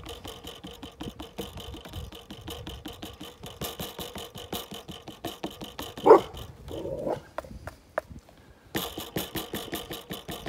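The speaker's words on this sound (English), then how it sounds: "That's why Bert's barking." Dog barking at someone walking down a side lane beside a garden, a rapid run of sharp barks with a louder burst partway through, close and repeated throughout.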